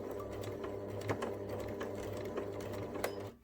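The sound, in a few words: sewing machine doing reverse stitches at neck seam end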